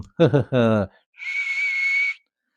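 A man's brief spoken phrase is followed by a single sustained whistled note lasting about a second as he walks away, clear and close against silence.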